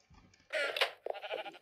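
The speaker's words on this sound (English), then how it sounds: "Just Dinnerbone sheep." A video game sheep in Minecraft bleats twice in quick succession, the calls loud and nasal with a short pause between, over a faint low rumble.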